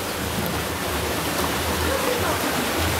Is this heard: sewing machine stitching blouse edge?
no